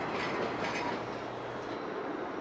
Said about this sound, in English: train 202 from Hialeah, with intermodal traffic and empty auto racks arrives